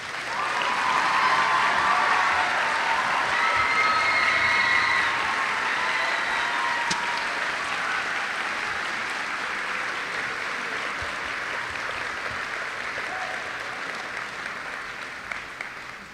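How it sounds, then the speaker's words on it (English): A commencement audience applauds a graduating class, loud sustained clapping from a large crowd filling the hall continuously, slowly tapering toward the end with no talk over it. "we should all applaud for this amazing group of kids"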